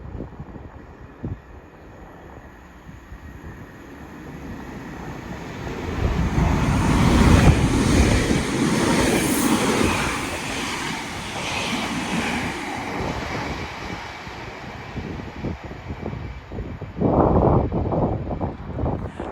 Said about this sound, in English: Train now zooming past is a 3331 going to Liverpool Lime Street